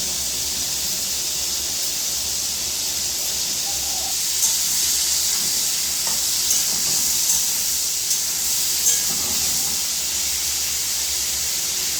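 Small golda prawns and potatoes fry in a pan for a prawn and potato curry, giving a steady, hissing sizzle, fairly loud and close, that swells slightly near the middle and carries on with no talking.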